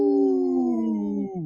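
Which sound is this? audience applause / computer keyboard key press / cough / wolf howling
wolf howling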